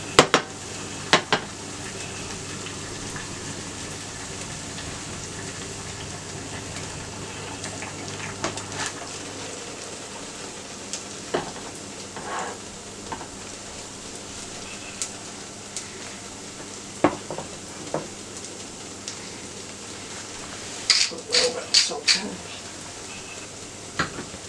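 Onion and garlic fry in a pan with a soft, steady sizzle, faint and even, broken by occasional clicks and utensil taps on the pan.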